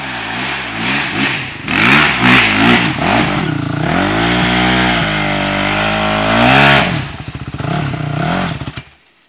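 A motorcycle labelled an imported Xeba revs hard while climbing a hill, its loud close engine rising and falling in pitch through repeated throttle bursts before cutting off at the end.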